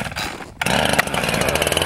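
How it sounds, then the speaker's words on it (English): A chainsaw engine roars steadily after a brief pause, its loud buzzing drone holding strong and close with slight fluctuations as it cuts a hole in ice. "you have to make hole with the chainsaw"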